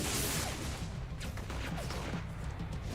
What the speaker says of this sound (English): I hear a lot of gunshots.